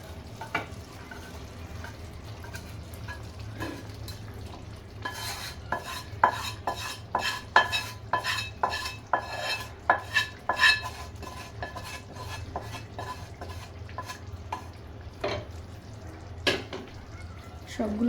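Eggs go into a pan of milk-spice masala and get stirred, with a spoon clinking and scraping against the pan in an irregular run of metallic taps over a soft sizzle, and a voice speaking at times.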